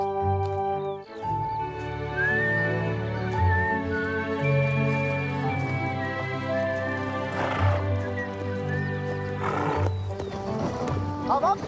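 A horse pulling a cart clip-clops along steadily and lets out a neigh, while a man sings over it throughout, with the hoofbeats and whinny sitting under the song.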